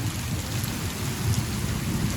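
Heavy rain pours steadily on a village while low thunder rumbles underneath, a dense continuous roar with no voices.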